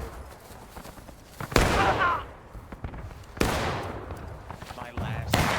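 Musket volleys crack out in a War of Rights battle, three sharp loud shots spaced a couple of seconds apart with rolling echoes, amid background battle din and shouted commands.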